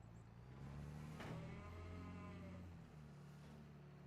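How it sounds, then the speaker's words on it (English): A cow in Farming Simulator 25 moos once with a long, drawn-out low call over a steady engine-like hum, followed by a quieter background drone. "let's get some moo cows going here"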